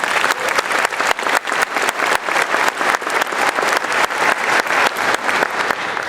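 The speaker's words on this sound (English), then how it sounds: "So I needed to start with a round of applause for the men and women that have come before us" A commencement audience at a Michigan State University Executive MBA ceremony claps in a sustained round of applause. The claps are dense and even, and the sound carries across a large hall.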